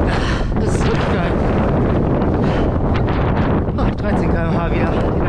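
Loud, steady wind buffeting a microphone while riding a bicycle along a dike, continuous roaring gusts filling the whole stretch with no break.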